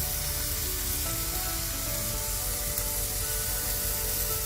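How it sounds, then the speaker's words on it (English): Bacon frying in a hot pan for a burger, producing a dense, steady, loud sizzle and crackle that fills the whole stretch without pauses, close up and with no voices. "we're gonna get started by heating a pan and cooking our bacon"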